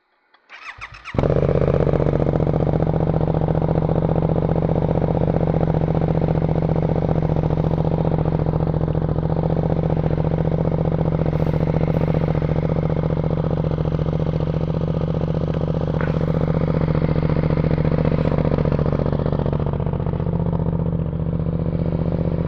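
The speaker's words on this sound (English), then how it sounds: "I'll give you guys a cold start." A Suzuki GSX-8R motorcycle cold-starts after a moment of near silence, then settles into a loud, steady idle with a constant low engine drone that holds for about twenty seconds.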